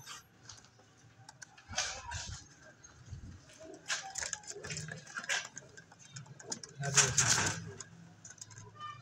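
Rampuri and golden female pigeons coo softly in a quiet coop, low murmuring calls rising and falling with a few sharp clicks and rustles, fairly faint and close.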